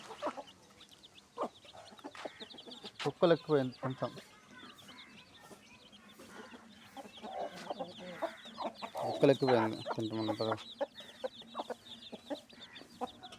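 Chickens and a rooster clucking and calling close by in a village yard, in several loud bursts with quieter clucks between, while people talk nearby.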